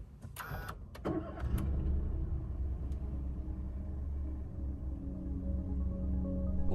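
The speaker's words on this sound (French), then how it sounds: "Au démarrage, le tricylindre japonais s'éveille discrètement." The Japanese three-cylinder engine of an Ego X car cranks and catches, then settles into a low, steady rumbling idle heard from inside the cabin, close and continuous, with no voices.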